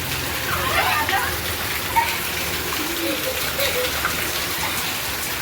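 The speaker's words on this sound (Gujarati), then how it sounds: "બહુ બધો વરસાદ આવે છે" Dense, steady rain pours down nearby, splashing on surfaces, with a faint voice briefly audible underneath.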